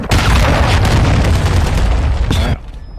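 A cruise missile explosion in Modern Warfare II: a loud, close, booming blast with rumbling debris and crackle that carries for over two seconds before cutting off abruptly into quieter game ambience.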